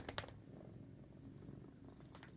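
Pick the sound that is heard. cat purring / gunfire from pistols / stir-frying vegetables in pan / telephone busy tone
cat purring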